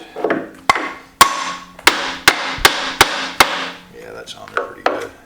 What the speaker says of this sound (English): go switch to the lead hammer on this.